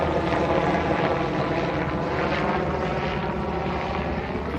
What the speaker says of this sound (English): big helicopter up there.